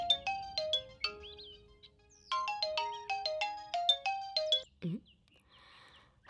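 A phone ringtone plays a bright melodic tune in repeated rising phrases, then breaks off into a brief pitched sound and quiet rustle.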